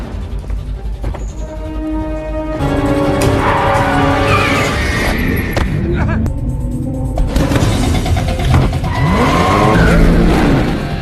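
A red car speeds away during a chase scene in the film Hitman: Agent 47, its engine and skidding tires mixed under loud dramatic music and brief voices, running steadily throughout.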